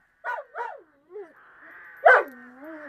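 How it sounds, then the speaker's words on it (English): A dog barks twice in quick succession, then whimpers and yips in a high, wavering whine, close by and fairly loud. "Yes, Timmy was by the front door, barking under a tree there."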